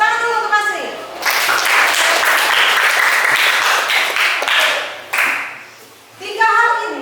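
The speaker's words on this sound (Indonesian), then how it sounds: "Tepuk tangan dulu untuk Asri" A classroom of students applauds a classmate named Asri, dense group clapping rising after a brief voice and lasting several seconds, then fading as a teacher's voice returns.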